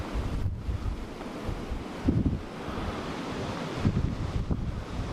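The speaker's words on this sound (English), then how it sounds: "It's very windy. You can hear it in the trees." Strong wind gusts roar through trees and buffet steadily, rising and falling in broad rushing surges with no voices.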